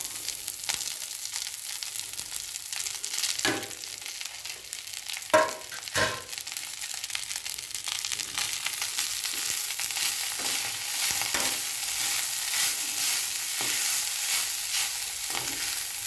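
Boiled, crumbled sesame flour (telagapindi) frying in oil in a pan, a steady close sizzle with a few sharp stirring scrapes partway through, growing slightly louder toward the end.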